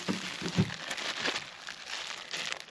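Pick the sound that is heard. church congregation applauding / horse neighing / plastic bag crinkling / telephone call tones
plastic bag crinkling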